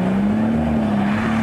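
A car maneuvers through a tight curve at an asparagus festival in Mirabella Imbaccari, its engine giving a loud, steady hum that rises slightly in pitch as it works around the bend.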